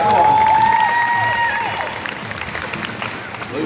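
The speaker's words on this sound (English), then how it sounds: "Round of applause for our finalists" A crowd applauds the finalists at a Fear Factor-style competition. The steady clapping stays fairly loud and close, with a whistled or shouted tone rising over it early, then eases off slightly.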